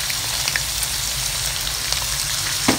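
Eggs stir-fried in a hot pan while cooking mee hokkien, a steady close sizzle and crackle running throughout with a couple of light scraping knocks near the end.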